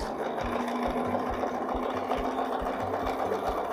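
A sewing machine stitches steadily along a template line for a hexagon-shaped interlocking border, its rapid, even needle rhythm running close and continuous throughout.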